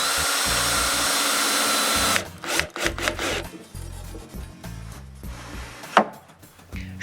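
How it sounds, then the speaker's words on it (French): A wooden strip cut at a 15-degree angle is screwed onto a fixed window frame for a cabin: a loud power tool runs steadily, then stops, followed by close scraping, rubbing and knocking of wood with a few sharp taps. "Je trouve l'emplacement de la deuxième sur la fenêtre fixe, puis je la visse en place."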